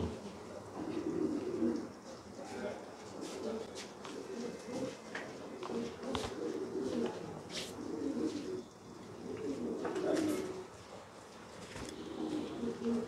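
Homing pigeons in a loft coo repeatedly in overlapping low, rolling calls, close and fairly loud, with occasional wing flutters and faint talk in the background.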